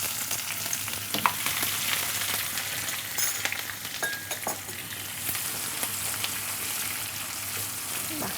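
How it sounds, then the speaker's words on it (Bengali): Chopped onion, whole garam masala and dried red chillies frying in hot oil for mas kolai dal khichuri, a continuous crackling sizzle with scattered spatula clicks and scrapes, close and unvoiced. "এবার আমি পেঁয়াজ কুচি দিয়ে দিব।"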